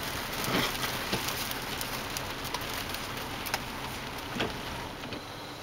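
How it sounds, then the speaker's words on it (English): Hail falls during a California winter storm in a steady, dense hiss of pelting impacts, with a few sharper hits standing out over the constant roar. "that hail again"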